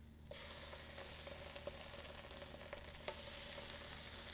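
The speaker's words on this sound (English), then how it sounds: "So let's flip the halloumi cheese." Halloumi cheese fries in sunflower oil in a pan, a soft, continuous sizzle that starts abruptly and carries faint crackles and a few light taps, with no voices.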